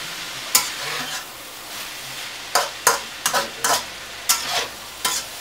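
Carrots, celery and peppers for pancit are sautéed in a pan over a soft steady sizzle, broken by repeated sharp scraping stirs in uneven bursts close by.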